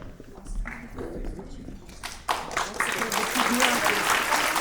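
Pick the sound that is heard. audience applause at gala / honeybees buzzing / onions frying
audience applause at gala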